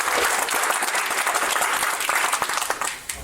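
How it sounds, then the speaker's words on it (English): Loud, dense applause from a live audience welcoming a performer named Charles, many hands clapping close by throughout, with a few sharper individual claps standing out near the end. "Can we have a round of applause for Charles"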